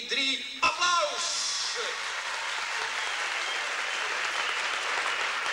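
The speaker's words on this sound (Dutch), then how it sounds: "Dames en heren, 1, 2, 3, applaus!" Loud, dense applause fills a Dutch artists' gala hall, starting right after a brief spoken voice at the beginning and then holding steady as a continuous wash of clapping.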